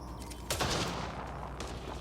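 Sharp bursts of gunfire sound in Mass Effect Andromeda, with one louder burst early and a fainter one later over a low background hum.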